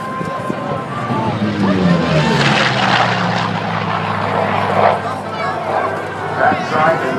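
A WWII-era propeller warplane flies past at an airshow, its loud, droning engine steady and near, swelling and fading slightly, with crowd voices and chatter underneath.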